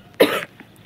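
One brief, close cough, harsh and throaty, standing alone against a quiet background.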